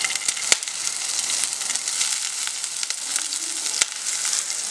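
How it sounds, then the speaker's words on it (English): Shrimp sizzling in a hot pan for a prawn curry, a steady, close hiss of frying with a few sharp crackles and pops, no voices over it. "that's the sizzle you're supposed to hear."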